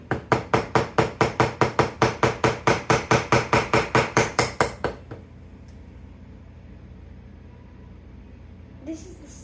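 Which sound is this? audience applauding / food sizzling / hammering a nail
hammering a nail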